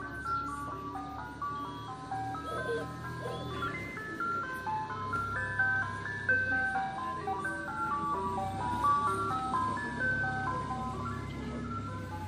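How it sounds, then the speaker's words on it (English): An ice cream truck plays its jingle as a tinkling electronic melody of bright repeated notes over a low engine rumble. It sounds moderately distant and continues without speech. "The ice cream guy is token up."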